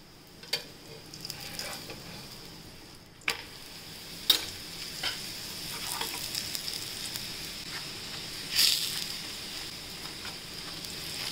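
Spinach paratha frying in oil on a pan gives a gentle continuous sizzle, broken by occasional sharp clicks and taps of a spatula.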